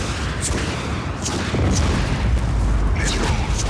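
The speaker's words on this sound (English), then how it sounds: "I like blowing up these circular gas tanks." Booming explosions from circular gas tanks being blown up in the video game Just Cause 4, a run of heavy blasts with sharp crackling bursts over a constant loud rumble.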